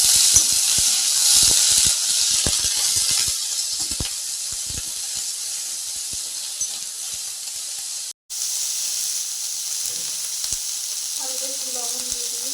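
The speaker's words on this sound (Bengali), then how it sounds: "তরকারিটাকে ভালো করে ভাজবো।" Vegetable curry frying in hot oil with dried red chili and bay leaf, a steady loud sizzle with crackling pops and occasional stirring scrapes, briefly cutting out once before resuming.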